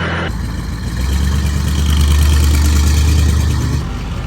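A truck engine runs steadily while the vehicle rolls through a parking lot, a loud, close, droning low rumble with a slight rise in the middle and no talking.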